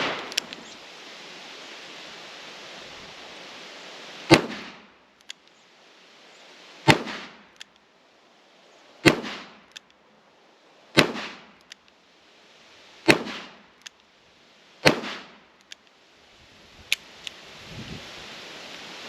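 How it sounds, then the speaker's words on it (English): Ruger GP100 revolver firing .357 Magnum rounds, about seven sharp loud shots spaced a couple of seconds apart over steady outdoor hiss, each crack followed by a brief decaying echo. "I'm gonna grab the Ruger, we're gonna throw some 357 through that as well"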